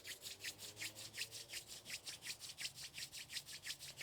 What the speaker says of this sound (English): You could even take your hands, rub them together